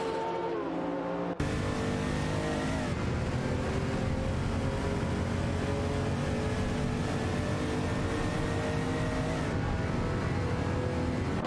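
Race cars in a racing video game, a De Tomaso Pantera JT5 and a Ferrari 512, roar steadily at high revs throughout, with a dense, continuous engine drone that swells after the first second and stays loud.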